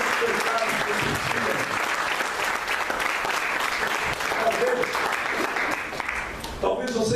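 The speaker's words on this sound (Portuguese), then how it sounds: "dá um aplauso a Jesus aí" Church congregation applauding steadily throughout, a dense, close wash of clapping that holds level before thinning near the end, with a few voices mixed in.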